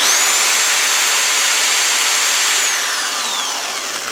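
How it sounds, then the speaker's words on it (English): An electric drill runs flat out on inverter power from a 12.8V 100Ah LiFePO4 battery, giving a loud, steady whine close by that sags slightly in pitch toward the end. "Let's see what it runs at when it's full boat on the drill."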